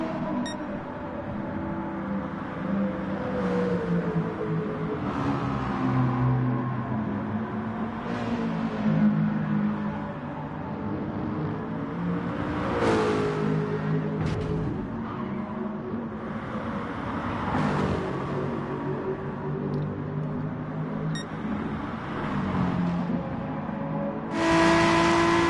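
GT4 race cars lapping Brands Hatch, engines revving and whirring continuously with several cars passing close by in succession, rising and falling in pitch through gear changes.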